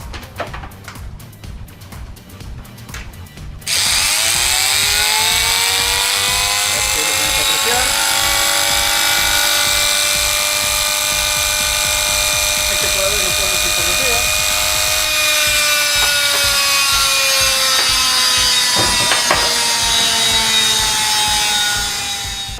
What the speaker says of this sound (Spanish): Vamos a comenzar con el motor del lavarropas.